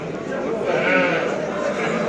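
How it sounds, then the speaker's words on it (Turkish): Ewes and barren sheep bleat in a crowded Turkish livestock market at Göksun ahead of the sacrifice holiday, steady calls close by mixed with market chatter and voices throughout. "Yine burada dişi koyunlar var. Kısır koyun."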